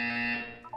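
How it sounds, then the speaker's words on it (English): Short electronic buzzer tone in the Portal 2 video game, a single bright, harmonic alarm-like blast that fades after about half a second, with a few higher blips trailing at the end. "You will hear a buzzer."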